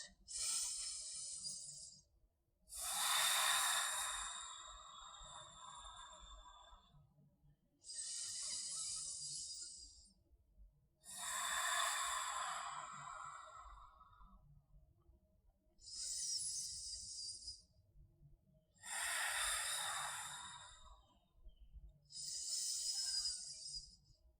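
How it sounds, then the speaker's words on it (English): Slow deep breaths during a gentle morning hatha yoga flow, about seven long airy inhales and exhales at an even pace, close and quiet with near-silent pauses between them. "We take 5 deep breaths here."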